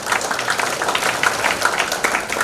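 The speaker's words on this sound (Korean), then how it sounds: "박수 부탁합니다" Crowd applause at a political assembly in Korea, a loud, dense burst of many people clapping steadily from start to finish, with no speech.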